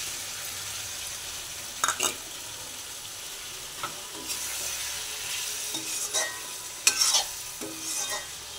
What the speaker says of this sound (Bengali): মশলাটা ভাজা ভাজা হয়ে যাচ্ছে।